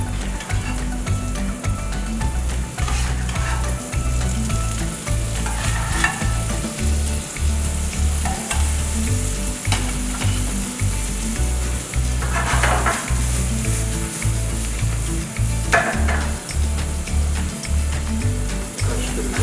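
Porcini mushrooms sizzling loudly in a pan as they are stirred, with a steady close frying hiss and repeated rhythmic scraping strokes of a utensil throughout.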